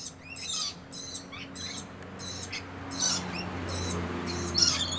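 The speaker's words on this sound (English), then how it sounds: "Those are the scaly-breasted lorikeets." Scaly-breasted lorikeets in a sunny bird sanctuary give repeated sharp, high chirps and screeches in short bursts, fairly close, over a quiet hum of background ambience.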